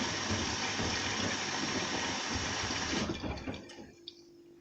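A washing machine fills with water during a boil wash of towels, a steady rushing hiss that fades after a few seconds into a quiet low hum.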